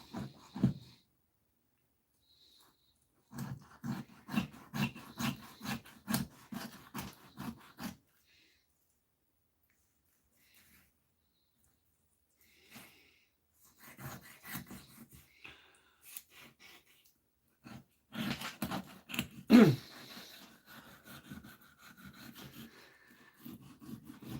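A knife slicing along a fish backbone while filleting, heard as bursts of close scraping and rasping strokes separated by quiet pauses, with louder cutting toward the end.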